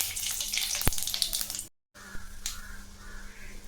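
Mustard seeds and urad dal spluttering in hot oil, a close, steady hissing crackle with sharp pops, broken by a brief silent gap before the frying hiss resumes.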